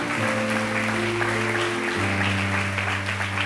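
A church congregation breaks into applause during a sermon, giving a continuous wash of clapping at moderate volume over a sustained organ or keyboard chord that shifts partway through.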